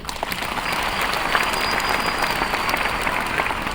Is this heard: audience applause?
yes